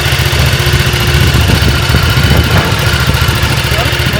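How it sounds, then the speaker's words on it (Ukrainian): A motorcycle with a 90-degree L-twin engine idles steadily nearby with a low, lumpy throb, loud throughout. "Мотик стильний, оснащений L-подібним двигуном з розвалом"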